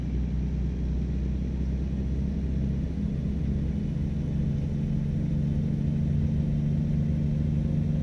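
A video game truck engine in American Truck Simulator drones steadily with a deep, constant rumble, building slightly toward the end as it accelerates at full throttle; no voices.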